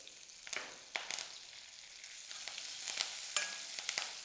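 Curry leaves and coriander crackle in a garlic tempering, with a soft steady sizzle broken by sharp spitting pops and stirring scrapes, close and fairly quiet.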